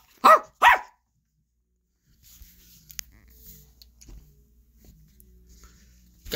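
A person imitates a dog, giving two loud, close, sharp barks in quick succession, followed by quiet background noise from a Roblox game session.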